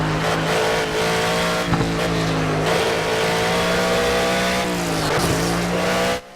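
Race cars roar around the Nürburgring in the video game Project CARS, several engines droning and revving together loud and close, with rising pitch sweeps as they accelerate and shift through the whole stretch.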